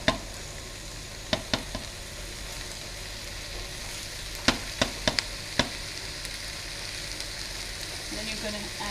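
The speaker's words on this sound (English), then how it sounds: "Don't need to stir it all the time, but just make sure nothing's going to burn on the bottom." Ratatouille vegetables sizzle steadily in a pan while being stirred now and then, a continuous frying hiss broken by several sharp clicks and scrapes of the spoon against the pan.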